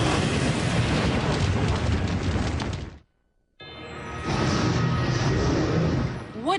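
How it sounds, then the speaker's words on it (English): A cartoon dragon attacks a castle with fiery blasts, a loud rumbling roar of explosions that cuts to silence for a moment and then bursts back just as loud. "What is all that unearthly commotion? A dragon attacking the castle."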